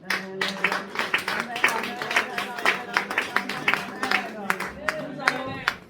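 Women at a church leaders' meeting clap rhythmically in acclamation, a steady run of sharp hand claps under singing and voices, moderately loud and close.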